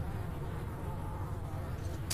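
Steady insect buzzing of flies in the video game Metro: Last Light drones throughout, a constant low hum with a faint high hiss at the very end.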